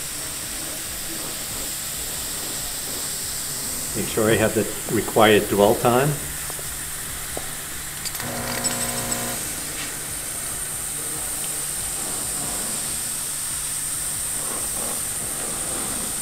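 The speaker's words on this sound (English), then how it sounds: "This will steam right through the fabric, kill any microorganisms that are sitting on that fabric." A MondoVap 2400 steam cleaner steams the fabric of a chair, giving a steady, close hiss throughout. Someone speaks briefly over it near the start.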